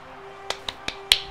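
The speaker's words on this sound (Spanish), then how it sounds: "Me aplaudo a mí misma, me amo." A woman claps for herself after scoring a goal in a Rocket League match on PS4: four sharp, close claps spaced about a fifth of a second apart, the last one loudest, with no talking.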